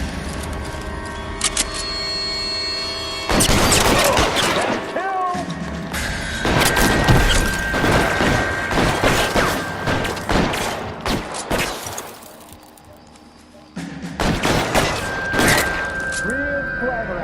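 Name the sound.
gunfight in the video game L.A. Noire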